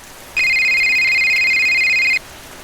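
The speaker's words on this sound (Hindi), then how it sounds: "रात को मेरा फोन बजा।" A single steady electronic phone ring, a bright sustained tone lasting a couple of seconds over faint background hiss.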